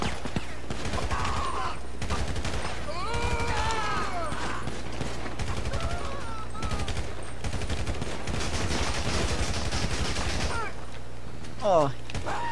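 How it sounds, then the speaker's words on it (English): Gunfire in the video game GTA V crackles in dense bursts and scattered shots alongside sirens and vehicle noise, with excited voices talking over much of the action. "Shot fired!"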